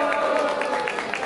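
Audience at a Brazilian rap battle, Batalha Da L, claps in rhythm, steady beats under a continuous crowd roar with voices mixed in.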